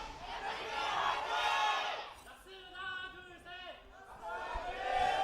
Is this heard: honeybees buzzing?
no